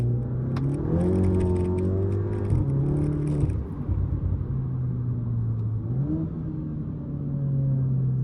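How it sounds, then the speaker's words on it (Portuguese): A Volkswagen Golf GTI with the EA888 Gen 3 engine and sport exhaust revs up and settles, heard from inside the closed car; the engine note climbs, holds, drops, then rises again in a smooth, moderately loud drone. "Eu vou dar uma aceleradinha aqui para vocês poderem ouvir como é que é o ronco do meu carro."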